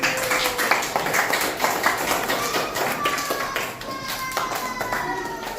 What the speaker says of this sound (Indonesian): Beri tepuk tangan untuk Basir dan Alvin